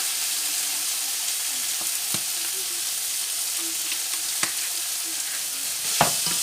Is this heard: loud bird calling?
no